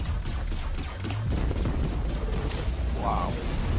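Explosion in a video game: a deep rolling rumble with bursts and crackling debris, sustained and loud, with faint voices underneath.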